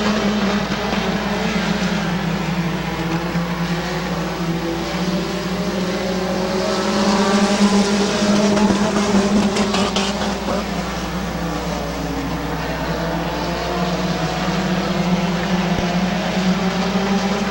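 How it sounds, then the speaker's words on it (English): Race cars roar around the oval at Midvale Speedway, a dense, loud, continuous engine drone that swells slightly as the pack passes closer, with no pause across the whole stretch. "but Neil Rowley in the 46 car on the outside lane."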